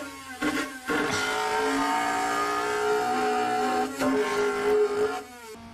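A car engine in the Need For Speed Underground 2 racing game revs loud and sustained, with a steady tonal drone and a couple of brief dips as the pitch shifts, close and dominant with no talking.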